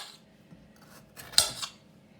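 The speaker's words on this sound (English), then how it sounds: "Cut your pepper in half." A knife slices through a pepper on a board in a kitchen, giving a couple of short, crisp cuts close by amid quiet surroundings.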